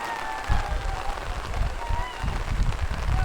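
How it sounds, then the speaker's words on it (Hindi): Monsoon rain at Naneghat near Pune, a steady hiss of rainfall with soft low thuds and gusty rustling, close and continuous, with fog in the hills. "बारिश शुरू हो गई है, फॉग भी है थोड़ा थोड़ा"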